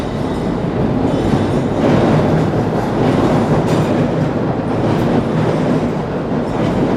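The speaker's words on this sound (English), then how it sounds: "Look at the size of train." London Underground train running through the disused Mark Lane station, a loud, steady rumble and rattle of wheels on track that continues without a break, with no voices.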